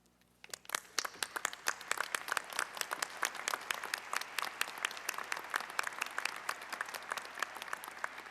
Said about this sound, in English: join me in honoring them with your applause